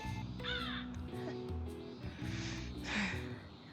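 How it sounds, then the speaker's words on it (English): A crow caws several times, harsh and fairly close, while people talk over it at low volume. "Meet Diablo, my new crow friend that will be on my shoulder for pretty much all, if not most, streams."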